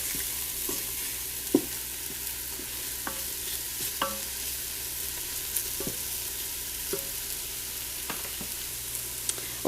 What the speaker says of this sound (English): can you see the oil sizzle?